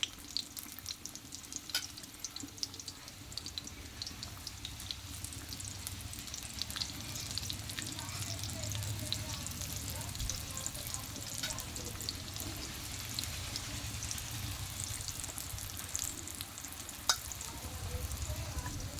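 Tea-time tiffin snacks fry one by one in oil kept at low heat, a continuous moderate sizzle and bubbling that holds steady throughout with faint occasional ticks, no clear speech.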